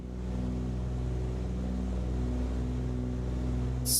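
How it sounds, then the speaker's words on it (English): Steady engine drone of a Cessna 414 Chancellor twin piston aircraft in Microsoft Flight Simulator 2024, a continuous low hum with strong tonal bands, even and unbroken throughout with no talk. "the engine sounds, you guys can kind of hear it now"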